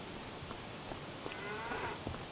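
Cattle mooing in a large cow shed in the farming game Farming Simulator 25, several faint overlapping low moos over a dense, noisy barn ambience.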